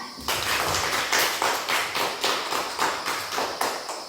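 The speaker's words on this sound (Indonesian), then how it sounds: "Tepuk tangan dulu untuk kelompok seri" Sustained applause from a classroom group, dense and steady for about four seconds with rhythmic clap peaks, close and fairly loud.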